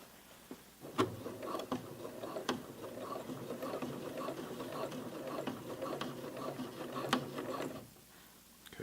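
A home sewing machine stitching a jeans hem runs in a steady mechanical patter, with sharp clicks and knocks at intervals as the foot meets a thick side seam, moderately close and alone.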